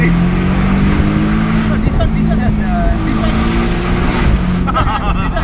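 A 2017 Porsche 718 Boxster S with a turbocharged flat engine drones steadily and loudly from inside the cabin, with a sustained engine hum throughout while people talk over it.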